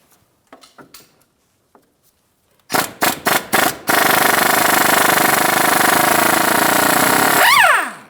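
Tool loosening a 24mm crankshaft balancer mounting bolt on a 2007-2014 GMC Sierra 2500 HD: a few faint clicks, then four sharp close bursts followed by a loud sustained whirring hammering for several seconds that winds down at the end.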